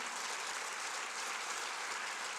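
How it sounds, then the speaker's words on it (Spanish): Applause from a church congregation during a service, a soft, even hiss of many hands clapping at a distance, with no voices standing out. "Denle un aplauso a la palabra del Señor"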